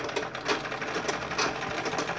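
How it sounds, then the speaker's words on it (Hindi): A sewing machine stitching dori piping runs steadily up close, its needle thumping in a fast, even rhythm of about four strokes per second over a constant mechanical whir. "उसके बाद बाकी जो काम है हम सिलाई मशीन से कर सकते हैं।"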